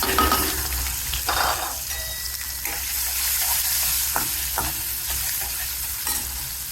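Curry leaves, cashews and green chillies frying in a pan with mustard seeds, a steady close sizzle broken by repeated scraping stirs of a spoon against the metal.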